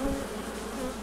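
Honey bees buzz in an open hive beneath a queen excluder, a dense continuous close hum with no pauses.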